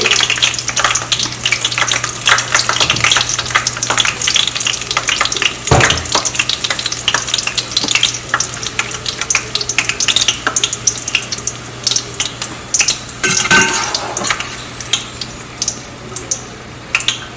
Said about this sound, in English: our onion is fried and has a very nice aroma and so crispy